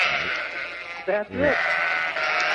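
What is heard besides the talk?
sheep bleating sound effect on radio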